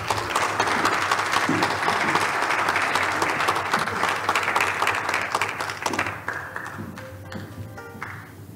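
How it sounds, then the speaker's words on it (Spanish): A hall audience at a Mexican cardiology congress claps loudly to welcome a doctor to the podium; the dense applause holds steady, then thins and fades near the end, leaving a few scattered claps and faint tapping and ringing sounds. "Recibamos con un fuerte aplauso al doctor Héctor Hernández."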